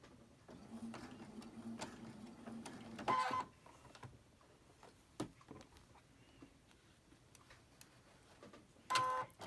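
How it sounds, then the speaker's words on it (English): A sewing machine stitches cotton fabric pieces together in short, faint runs of mechanical whirring, stopping and starting with quiet handling noises between bursts. "you want to go ahead and sew them together."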